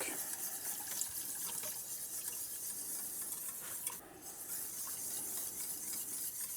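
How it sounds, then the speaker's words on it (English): Milk poured into a pan of roux for a Mornay sauce with Comté: a steady soft liquid wash with a faint sizzle and stirring underneath, continuous and close, without speech. "Now we add some milk, a little bit first. And all of the milk."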